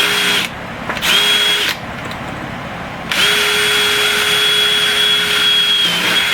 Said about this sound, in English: with a nice sharp drill, I think I'm going to do this one right here.